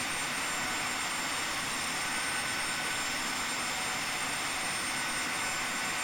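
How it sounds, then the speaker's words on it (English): A jet airliner engine in the X-Plane 10 flight simulator gives a steady, loud, broadband roar with a high whine, unchanging and alone throughout. "oh wow, that plane is so loud"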